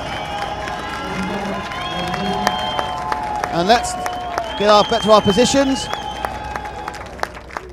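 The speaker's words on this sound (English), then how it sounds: "A fantastic response from the crowd," A crowd claps and cheers at the EFRA 1/8 off-road RC car European Championship finals, a broad, steady wash of applause with scattered shouts under someone speaking over a loudspeaker.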